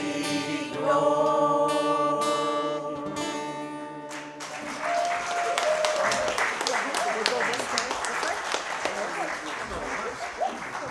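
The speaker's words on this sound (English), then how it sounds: "thank you for your kind applause." Sung harmony ends a folk song, then an audience claps in a scattered, moderately loud round of applause, with a voice speaking over it.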